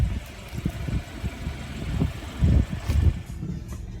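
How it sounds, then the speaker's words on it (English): A BMW xDrive28i four-cylinder engine runs nearby with a low, uneven throb that swells and dips in a few louder pulses, close and fairly rough, with no talking over it. "it's a 4-banger engine. It sounded like it."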